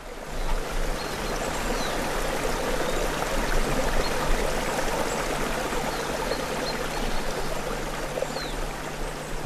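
Křeptovský brook, a small stream, runs as a steady, close, continuous rush and trickle of water, with no voices over it.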